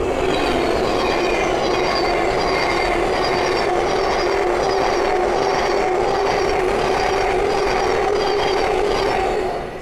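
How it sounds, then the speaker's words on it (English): A Thameslink Class 700 electric multiple unit passes by on the East Coast Main Line at Great Wymondley, a loud, steady roar of wheels and motors with a faint rhythmic rail clatter throughout, close and sustained before easing slightly at the end. "the next train to pass by is a Thameslink 700"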